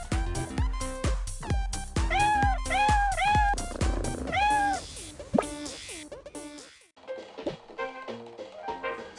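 A kitten in a Toca Boca video game meows repeatedly in quick, high, bouncy calls close up, followed by softer knocks and scattered game sounds toward the end.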